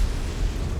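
An explosion of a destroyed target in the video game MechWarrior 5, a dense, loud low rumble that fills the short moment without a distinct attack, heard alone.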